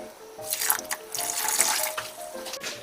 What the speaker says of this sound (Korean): 표고육수 2컵 넣어주세요